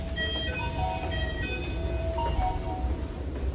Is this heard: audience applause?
no